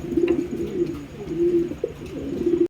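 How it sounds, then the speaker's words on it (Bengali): A pair of Beauty pigeons coo softly and continuously nearby, a low, throaty burbling repeated in short phrases. "খুব সুন্দর একজোড়া বিউটি কবুতর আপনারা দেখতে পাচ্ছেন"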